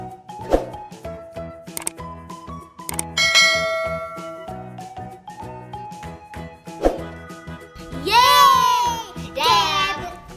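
Two bright bell-like dings of a notification bell sound effect ring out among busy background music and chiming tones, with a voice nearby.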